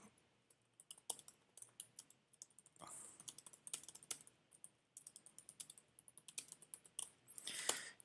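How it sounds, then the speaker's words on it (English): Close, quiet typing on a computer keyboard with irregular bursts of keystrokes and clicks, no voice heard. "just typing in all these messages"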